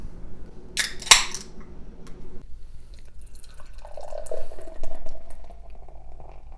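A bottle cap pops with a sharp hiss, followed by liquid glugging and pouring into a glass, fizzing softly at close range.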